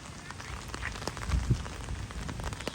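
Heavy rain pours down outdoors, a dense patter of drops hitting surfaces close by, continuous across the few seconds with no talking.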